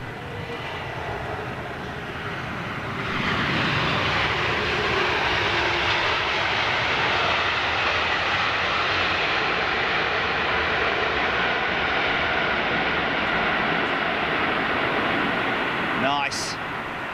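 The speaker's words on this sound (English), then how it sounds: "let's see how long this one uses aero brake for" A jet airliner rolling out after landing with aerodynamic braking gives a loud, broad engine roar. It swells sharply about three seconds in and then holds steady and close for the rest of the clip.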